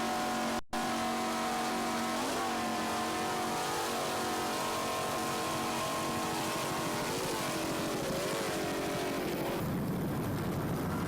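A racing powerboat, a 26-foot Twister with one 390 horsepower Mercury inboard and Mercruiser drive, roars steadily at close range in an A-Class offshore race, its engine pitch rising and falling through the run with no talk over it.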